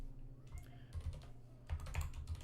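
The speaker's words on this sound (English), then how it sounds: "actually I'll start typing this one down to the formula thing" Typing on a computer keyboard during a review session, with clusters of quick, close key clicks arriving in short bursts and brief pauses between them.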